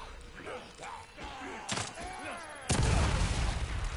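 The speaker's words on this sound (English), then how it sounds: "I'll just shoot a shotgun wildly like a fucking pistol." A shotgun fires in The Evil Within 2, one loud blast landing near the end after a stretch of groans and scattered game noises.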